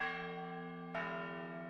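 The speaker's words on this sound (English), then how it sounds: "Pealing church bells?" Pealing church bells struck twice, each stroke ringing out with a bright metallic attack and a long, humming decay; the second strike lands partway through while the first still sustains, clear and alone.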